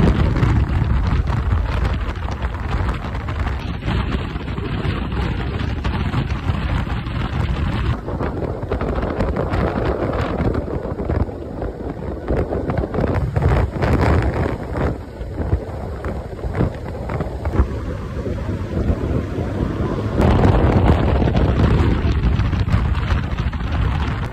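Steady, loud wind buffeting while riding a Modenas Elite 150 motorcycle, a continuous broadband roar with faint engine rumble underneath and no talking.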